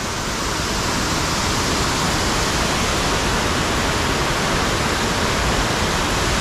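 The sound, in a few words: waterfall at South Lake Tahoe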